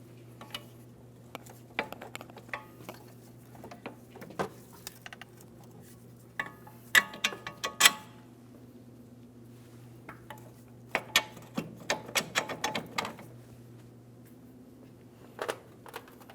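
Mounting bolts on a 2003-2008 Toyota Matrix steering knuckle being tightened, with scattered close metallic clicks and short ratcheting bursts over a steady low hum, some clusters of rapid clicks, and no talk.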